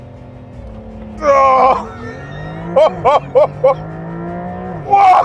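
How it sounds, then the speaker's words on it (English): A 2025 Porsche 911 Carrera in Sport Plus mode launches hard under launch control, its engine a steady, strong drone heard from inside the cabin, while a person exclaims and laughs over it in loud bursts. "We're going to put it in Sport Plus mode. Foot on brake, hard on the accelerator."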